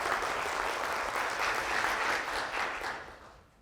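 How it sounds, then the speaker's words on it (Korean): An audience at a 2024 job-development results-sharing ceremony applauds warmly, a thick steady wash of clapping that holds for about three seconds before fading out. "다시 한번 큰 박수 부탁드립니다"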